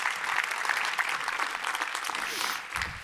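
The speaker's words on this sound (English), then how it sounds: "give a big applause" Audience applause fills a conference panel session on advanced therapies, a steady dense wash of clapping sustained throughout at moderate loudness, with no talk over it.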